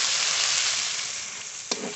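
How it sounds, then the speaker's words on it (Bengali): Masala fries in oil for prawn malai curry, a steady close hiss of sizzling with a brief stir clink near the end, no talking. "মশলা খুব সুন্দর করে কষিয়ে নিয়েছি।"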